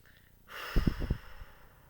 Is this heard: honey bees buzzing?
no